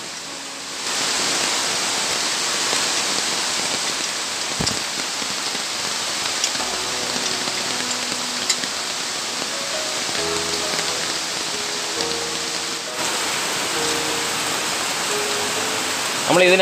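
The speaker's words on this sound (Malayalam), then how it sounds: "വെളിയിൽ നല്ല മഴ പെയ്തുകൊണ്ടിരിക്കുകയാണ്." Steady heavy rain pours outdoors on a rubber plantation with a dense, continuous hiss throughout, with faint voices and a few clunks underneath.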